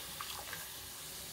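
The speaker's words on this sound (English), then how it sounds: "I'm going to be adding 1 cup of water." Water poured into a pot while making Ghanaian banku, a steady, close splashing stream with a few small bubbling plops, heard alone.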